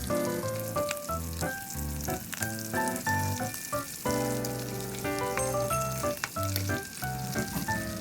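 Pork sizzling and frying in a pan for adobo, a steady crackle heard under prominent melodic background music that plays throughout.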